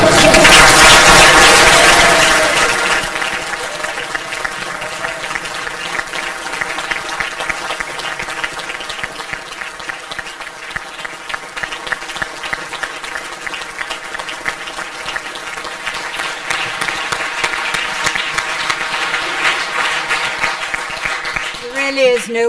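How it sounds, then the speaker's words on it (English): Audience applause at a celebration fills the start loudly, then eases into lighter sustained clapping that continues beneath a speaking voice. "I wish he'd been here to hear that applause."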